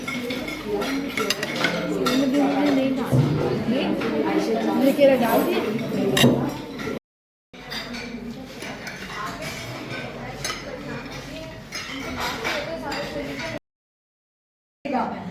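Cutlery clinks lightly against dishes during a meal of dal, rice, shorba and salad, with frequent soft taps heard under ongoing talk.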